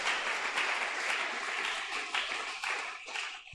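A church congregation applauding, a steady wash of many hands clapping at moderate distance that carries on without pause and fades slightly toward the end.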